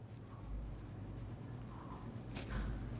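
Chalk or marker scratching across a board as a word is written out in a spelling lesson: a run of close, dry, scraping strokes over a low room hum, with no voice.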